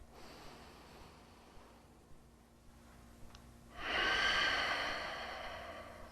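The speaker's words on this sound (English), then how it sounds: "try to get that nice full breath." Slow, deep breathing during a yoga stretch, quiet and close, with a long audible exhale swelling toward the end over a soft background hum.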